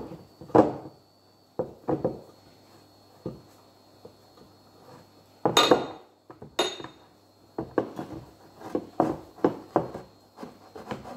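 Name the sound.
buttering a baking dish, dish clinking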